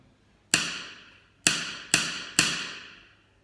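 Four sharp taps of a pen or hand on a desk during a music lesson, the last three closer together, each crisp strike trailing off briefly in an otherwise quiet room.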